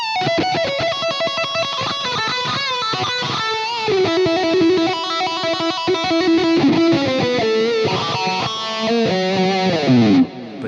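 Electric guitar through a Fractal FM3 wah effect swept by a randomized LFO, playing a continuous, loud melodic line with irregular filter sweeps and a distorted edge, with no voices.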